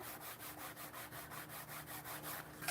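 Kraft paper for a scalloped treat box is rubbed along a score line, making a faint, quick, even back-and-forth scraping of about a dozen close strokes with no talking.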